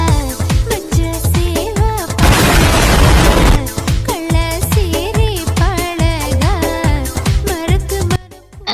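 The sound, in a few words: firecracker bursting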